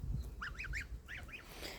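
Five nasal goose honks come from a farmyard flock raising goslings, three in quick succession and then two more after a brief pause, soft and somewhat distant over a low rumble.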